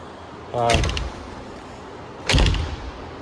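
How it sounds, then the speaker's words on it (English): Two doors being shut inside a venue under renovation, each a solid close thump with a short rattle, spaced about two seconds apart against a steady background hum. "I came in here to shut all the doors"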